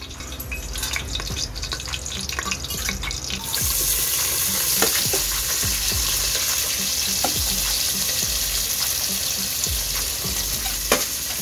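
Onions hit hot oil spiced with cardamom, cloves and cinnamon for chicken biryani, the sizzle jumping to a loud, dense hiss after a few seconds while stirring scrapes and taps come through.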